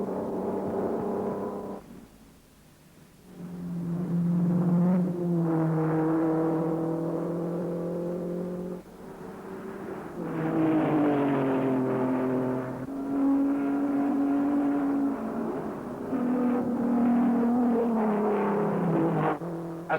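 1953 Formula 1 race cars at the Swiss Grand Prix, on a twisting road circuit through woods and past a quarry, give loud, sustained engine drones whose pitch rises and falls as they rev and pass, with no talking.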